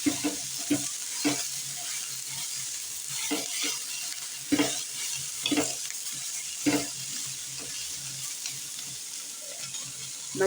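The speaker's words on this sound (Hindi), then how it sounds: "मसाले को अच्छे से भून लेंगे।" Chicken masala spices roast with onions and tomatoes in a pan, a steady close sizzle with periodic spoon strokes scraping and clattering through the mixture, no voices.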